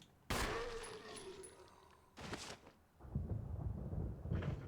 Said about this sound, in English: Okay, fine. I will shoot him.